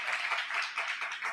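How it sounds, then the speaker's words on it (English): A short burst of brisk, close clapping from an audience, a dense patter of hands that keeps going for just over a second, with no voices. "that definitely deserves a round of applause"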